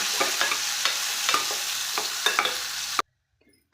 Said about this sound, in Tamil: வெங்காயம் கருவேப்பிலை வெங்காயம் நல்லா வணங்கணும்